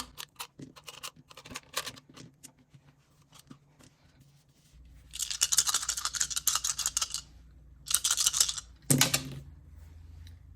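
Six regular dice rattling and clattering in a small dice holder, with quiet scattered clicks at first and then two louder bursts of shaking, close and alone without talk.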